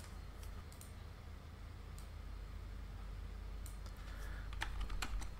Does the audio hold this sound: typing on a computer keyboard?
yes